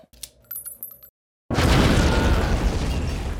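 A grenade explosion in an action film trailer: after a short stretch of ringing musical hits and a moment of silence, a loud, sudden blast bursts in and rolls on as a thick roaring boom.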